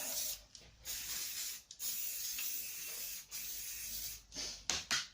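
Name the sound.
spraying Velo by Bluefix chain cleaner degreaser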